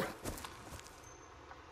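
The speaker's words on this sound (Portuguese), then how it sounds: "Cachorro." A dog in the 2019 horror video game Blair Witch gives a few short barks, with the last one loud and close at the very end, over faint ambient game sound.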